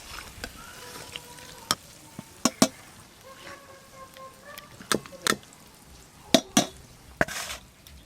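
Chicken pieces frying in hot oil in a pot, with sharp spattering pops and clatter over a low, steady sizzle.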